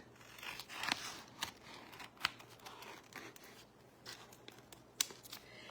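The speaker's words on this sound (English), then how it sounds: "I'm just trimming so that I can get this to work through the handle there and lay flat." Scissors trim material while a vintage travel makeup case is being refinished, with several crisp, close snips spread across a quiet background.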